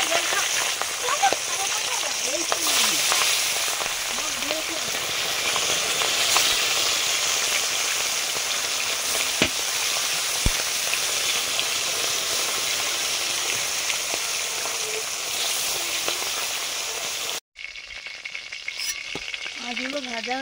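Fish fry in mustard oil in a home kitchen, a continuous close sizzle and crackle with occasional stirring clinks, and a person talks over it before the frying noise drops away near the end.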